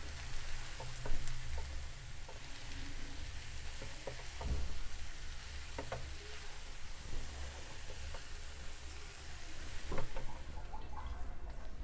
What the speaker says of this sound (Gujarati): હવે મેશ કરેલા બટેકા એડ કરીશું. બટેકાને મિક્સ કરી લઈશું.